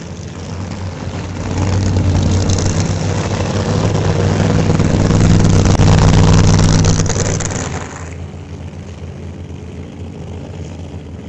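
A 1979 Corvette and a 1978 Trans Am roar off the line together at an old-time drag strip, loud sustained engine noise swelling and holding for several seconds before dropping back to a lower rumble as they pull away.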